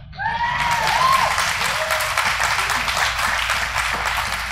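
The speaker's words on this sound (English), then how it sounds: "You guys want to clap for yourselves, you can." Audience applause at a Tea Party rally in San Antonio in 2011; clapping swells in quickly with a few whistles near the start, then holds as steady, full applause from a large crowd, with no speech over it.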